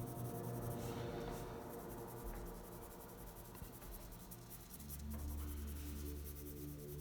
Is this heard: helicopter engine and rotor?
no